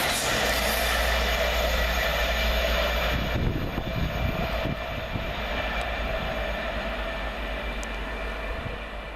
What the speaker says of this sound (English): Our first 91 diagram as 91-130 compels 1A26 from Leeds to London King's Cross